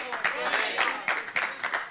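A church congregation claps in a steady, moderately loud burst of applause with rhythmic peaks, heard briefly without any talk over it.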